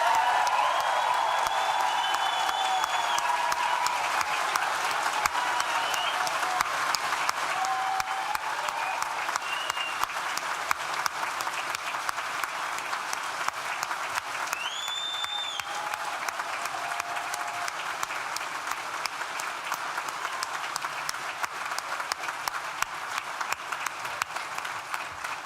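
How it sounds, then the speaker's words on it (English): A graduation ceremony audience for animal, rural and environmental sciences claps steadily in a large hall, dense sustained applause with a few scattered whistles and cheers, loud and continuous without letting up. "acknowledge those achievements again by clapping, hooting, hollering as loud as you possibly can."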